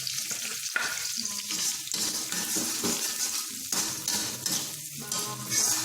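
Garlic and shallots are tipped into a little hot oil in a pan and fry with a loud, continuous sizzle close by. Faint stirring and crackling run through it, with no talking.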